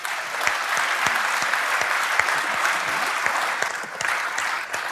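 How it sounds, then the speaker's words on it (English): A conference audience gives a loud, sustained round of applause for the final speaker, dense overlapping claps filling a hall without a break. "So an extra big round of applause for our final speaker from LA State Design, Marcel Ziul."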